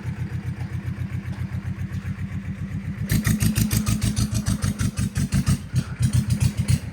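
A two-cylinder Powertrac 425 tractor engine chugs close by in a mango orchard in steady, heavy pulses, growing louder and harsher partway through as it works under load.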